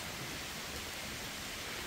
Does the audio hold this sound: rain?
yes